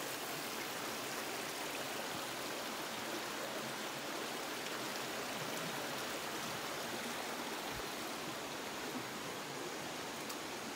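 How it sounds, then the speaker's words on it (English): Clear spring-fed creek at Blanchard Springs, Arkansas, flowing steadily over rocks in a constant, full rushing wash with no voices over it. "I bet that creek is ice cold, but that is crystal clear water"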